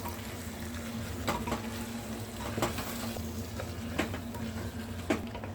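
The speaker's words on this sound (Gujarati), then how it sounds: "અને બધી વસ્તુને સારી રીતે મિક્સ કરી લઈશું" Steady sizzling as vegetables and spices for pav bhaji are stirred in a frying pan, with occasional scraping strokes spaced a second or so apart, fairly quiet and continuous.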